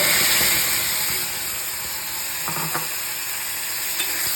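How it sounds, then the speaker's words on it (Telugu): Tempering poured into cooked cabbage dal sizzles and hisses in a steady, loud wash of frying noise. A couple of faint stirring clicks come through, and nobody speaks. "ఇప్పుడు ఈ ఉడికిన పప్పుని తయారు చేసుకున్నటువంటి తాలింపులే వేసుకుందాము"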